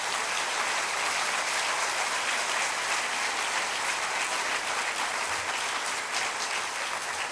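Congregation applause during a church service, a loud, steady wash of sustained clapping that fills the space continuously without letting up.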